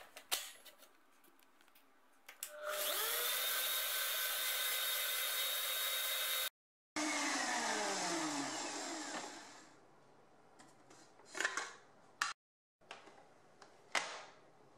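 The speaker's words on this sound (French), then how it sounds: "je vais la battre au robot et la faire monter comme une chantilly" Stand mixer whipping chilled ganache into a light, chantilly-like cream, a steady loud motor whir that runs for a few seconds, cuts out, then resumes at a lower, changing pitch before fading into scattered clatter.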